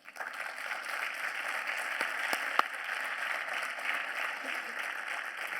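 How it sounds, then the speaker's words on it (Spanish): A conference audience applauds a foot specialist doctor at a health event, a steady wash of clapping of moderate loudness sustained throughout, with a couple of sharper individual claps standing out. "pido un aplauso para el doctor Javier Alfaro"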